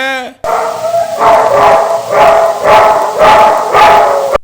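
Three dogs bark in loud, close bursts, with repeated yelping barks rising and falling in a rough rhythm across the clip after a short voice at the start.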